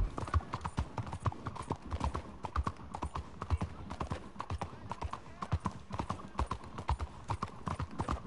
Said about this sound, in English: Pensaba que estabas en un burro primero, pero es el Arabian.